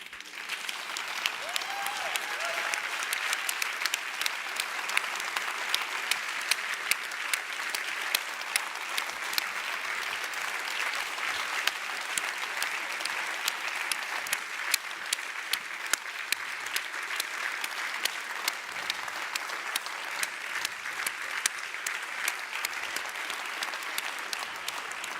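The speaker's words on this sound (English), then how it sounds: "I would like to ask the audience for a final huge" An audience at an annual conference and awards ceremony delivers a long, sustained round of applause, a thick wash of many hands clapping steadily for over twenty seconds with a crowd murmur beneath.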